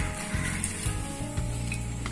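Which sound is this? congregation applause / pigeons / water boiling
water boiling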